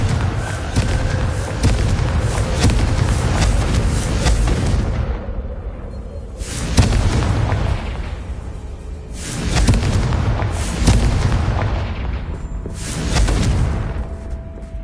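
Confringo blasting spells explode one after another in Hogwarts Legacy on PS5, a loud, dense rumbling burst followed by several heavy booms spaced a few seconds apart, each swelling and fading under a constant background din.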